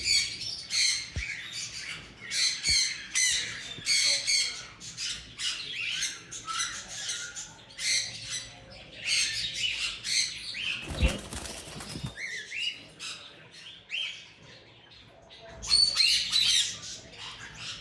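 Conure and ringneck parrots at a pet dealer squawk and screech in loud, dense, repeated calls, with wing flaps and rustling in between.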